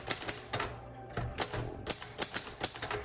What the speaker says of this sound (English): let's go ahead and do our typing